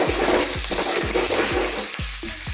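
Ginger strips and keema sizzle loudly in hot oil with curry leaves in a pan, while a spoon scrapes and stirs in a regular, repeated rhythm at close range.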